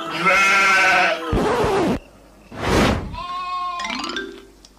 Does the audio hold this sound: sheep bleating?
yes